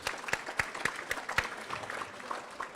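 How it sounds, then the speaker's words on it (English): Applause at a Black History scholarship gala honoring elected officials, a handful of distinct sharp claps at first, thinning into scattered lighter clapping as it fades. "If you'd help us give a big round of applause to all of them."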